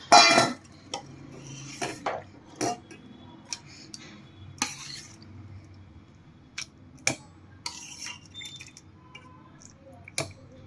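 Boiled dates and tamarind scraped from a pot into a bowl for Gujarati chutney: a series of sharp utensil clinks and scrapes spaced irregularly, close and fairly quiet, with no talk.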